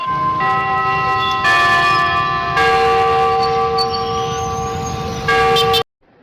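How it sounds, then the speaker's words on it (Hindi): Bells in Sundargarh, India ring out in overlapping, sustained tones, loud and resonant, shifting pitch as new strikes layer in before stopping abruptly. "सुंदरगढ़ घंटा केनता रड़सी सुनो"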